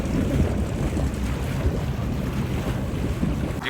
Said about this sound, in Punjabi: ਦੇਖੋ ਕਿੰਨੀਆਂ ਕਸ਼ਤੀਆਂ ਮੈਂ ਤੁਹਾਨੂੰ ਦਿਖਾਉਂਦਾ ਪਿਆ।